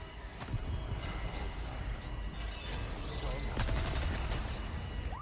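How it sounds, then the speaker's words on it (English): Video game gunfire, a dense, ragged hail of shots and mechanical clatter that runs continuously at close range, with sharper bursts near the end. "Ran right through a hail of gunfire there."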